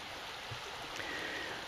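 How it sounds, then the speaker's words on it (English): Creek rapids run somewhere below, a steady, faint, distant rushing of water that stays even throughout with no voices. "you can actually hopefully hear the water in the rapids down below running"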